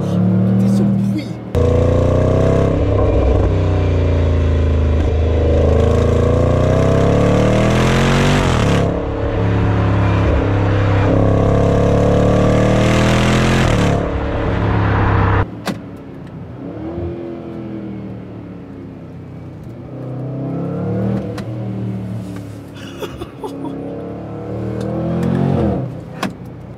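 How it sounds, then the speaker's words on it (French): Jaguar F-PACE SVR SUV accelerating hard with a whining supercharger, loud rising engine note climbing through gear changes, then easing to a lower cruising drone, with someone talking over parts of it. "C'est ultra réactif avec le compresseur qui siffle"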